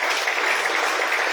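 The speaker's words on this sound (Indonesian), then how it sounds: "Tepuk tangan" Applause from a church congregation at a Sunday blessing service, a continuous dense patter of many hands heard briefly and evenly at moderate volume.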